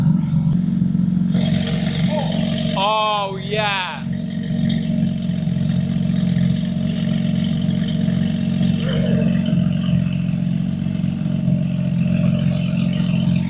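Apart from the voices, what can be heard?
Porsche GT3 RS exhaust revving in sports mode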